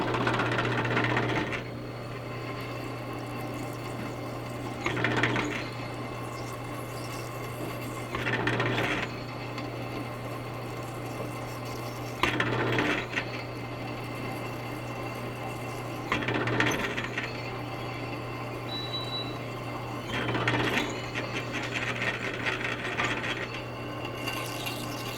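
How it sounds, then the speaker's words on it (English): A Porter Cable 15-inch drill press with a Harbor Freight bit bores stainless steel under a coolant setup: a steady motor hum runs throughout, broken by repeated harsh cutting bursts every few seconds. "I just drilled through this stainless steel with Harbor Freight bit, and we'll see if it'll do another hole here."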